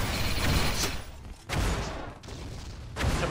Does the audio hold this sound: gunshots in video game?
yes